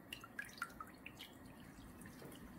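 Soaked gelatin sheets are squeezed by hand, letting water drip and trickle into a bowl in a few quick, close, faint drops before a softer wet trickle, with no voices.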